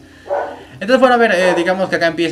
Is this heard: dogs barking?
yes